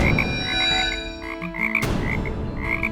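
Karag frogs croaking in Bukidnon, a loud close chorus of rapid, repeated grating calls that overlap in bursts, with a brief pause near the middle before the croaking resumes.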